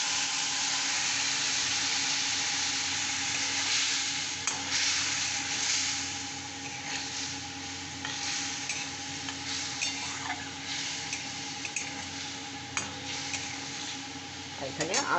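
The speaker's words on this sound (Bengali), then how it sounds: "এই মশলাটা আমি সবটাই ঢেলে দিচ্ছি। আর তার সঙ্গে আমি এখানে জল একটু দিয়ে দিচ্ছি" Spice paste sizzles in a pan after a splash of water, a continuous bubbling hiss with occasional soft scrapes and clicks of a spoon stirring, steady and close throughout.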